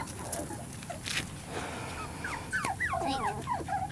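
Goldendoodle puppies about six weeks old whimper and yelp in a run of short, high, wavering cries, with scattered bumps and rustles around them and no speech.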